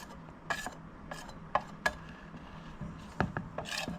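Salt and spices being mixed into food by hand or spoon, giving a few separate scraping, rubbing strokes with short pauses between them, close and fairly quiet.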